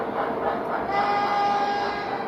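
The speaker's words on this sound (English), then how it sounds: "Come on, I want to play my train." A toy train runs continuously with a steady motor whine and a faint rattling rumble, close and fairly loud throughout.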